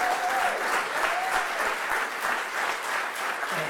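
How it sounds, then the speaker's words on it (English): An audience gives a photographer a warm round of applause in New York, a dense, continuous wash of clapping from many people that holds steady throughout, with a faint voice briefly audible. "Let's have a huge applause for Howard."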